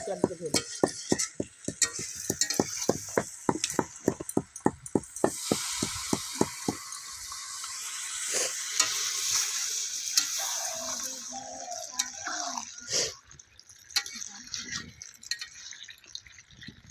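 Water poured into browned country chicken curry, preceded by a run of rapid metallic ladle clinks and scrapes against the pot, then a hissing sizzle that rises and fades; close and moderately quiet, no talk.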